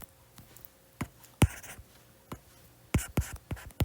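Marker or chalk strokes on a board while a physics problem on the magnetic effect of current is worked, heard as irregular scratchy taps and short scrapes, close and fairly clear, with no talking.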